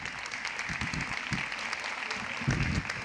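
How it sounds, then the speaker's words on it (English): Soft, steady applause from an audience at a women's college degree certificate ceremony, heard at a distance and fairly faint, with no voices standing out. "Please a round of applause for them."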